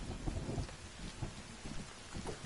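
Steady rain pours outdoors at night, with dull thunder-like rumbles rising and falling under the downpour and no talk.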